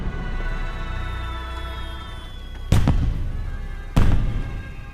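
Two sharp, booming blasts of fireworks, at about 2.7 and 4 seconds, each with a brief rumbling tail over a steady low hum.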